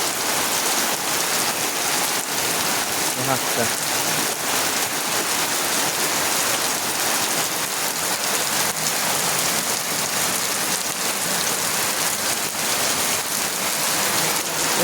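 Steady, dense rain pours onto a village yard in Gobindapur, Dagonbhuiyan, Feni district, Bangladesh, a loud, even wash of drops that holds without a break from start to finish, with no talking.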